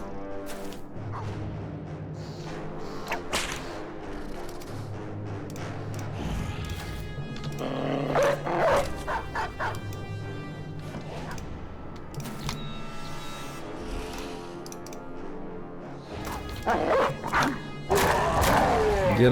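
Dogs barking in a video game, sharp repeated barks and yips scattered over about twenty seconds amid game sound effects, moderately loud with no talking.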